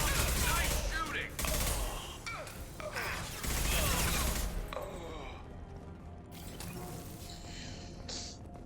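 Rapid bursts of gunfire from a firefight in the sci-fi game Mass Effect 2, loud in the first half and then thinning into scattered shots and mechanical clatter, with a voice talking over it.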